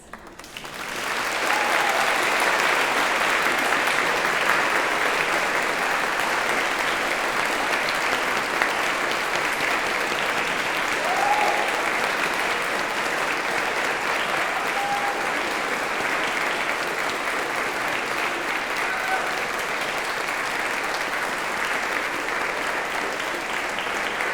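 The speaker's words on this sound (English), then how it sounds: "I want you to give them the biggest clap you can for supporting you throughout your studies" A graduation ceremony audience applauds graduates' supporters, sustained loud clapping from a large crowd filling the hall steadily, with no talking over it.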